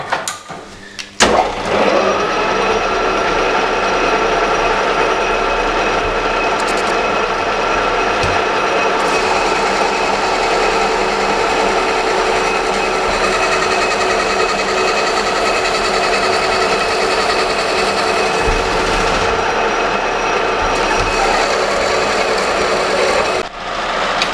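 A lathe rough-turns a 45 mm round bar held in the chuck, a loud continuous metallic whir and grinding hum with steady rhythmic ticking that runs unbroken for over twenty seconds.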